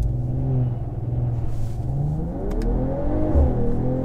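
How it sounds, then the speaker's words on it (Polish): An Audi RS7 or Mercedes-AMG GT 4-door 53 accelerates hard from a launch-control start, its engine rising in pitch through the gears with a steady, loud rumble and a brief shift break. "Zobaczmy, jak to przyspiesza z tak zwanej procedury."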